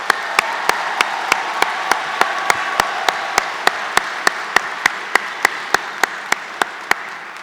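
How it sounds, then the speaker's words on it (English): A large crowd applauds graduates at a 2019 Johnson & Wales Denver commencement: sustained, loud clapping from many hands, punctuated by sharp, regularly spaced claps that cut through the wash for several seconds. "let's give everybody on the graduate side, all these graduates, a huge round of applause"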